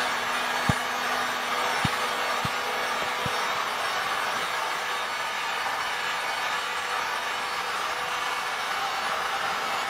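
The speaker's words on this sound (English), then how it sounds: "It's a little bit cold outside, so I'm having to use the heat gun" A heat gun runs steadily outdoors in cold weather during a quick rust cover-up, giving a continuous loud airy roar with a few faint clicks near the start.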